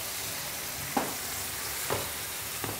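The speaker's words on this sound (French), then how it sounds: "Alors je mets un petit peu de vin rouge" A pan of sliced beef with autumn vegetables sizzles in a steady hiss after a splash of red wine, and three soft clicks from a utensil come at roughly one-second intervals, close and fairly quiet, with no talking.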